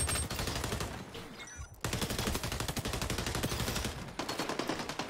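Gunfire in a video game match, a near-continuous stream of rapid, loud shots with one brief gap before firing resumes.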